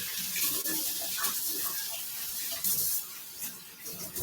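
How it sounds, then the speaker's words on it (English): Tap water running into a kitchen sink while green onions are rinsed, a soft steady hiss and splash with small fluctuations from the onions moving under the stream. "I'm just going to rinse these green onions."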